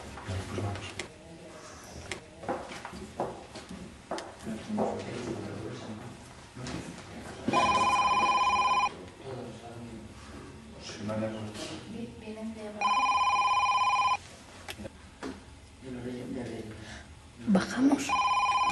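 Telephone ringing in The Room game: two long electronic rings, loud and close, between stretches of people talking.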